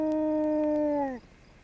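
A dog howls in a single long, steady, tonal wail that dips and fades out after about a second, heard alone and fairly close outdoors.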